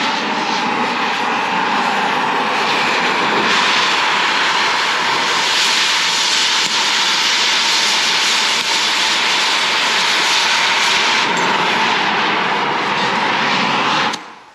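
An oxy-acetylene cutting torch roars loudly and steadily while slicing through 3/4 inch thick steel flat bar, a constant broad hissing blast that cuts off abruptly at the end.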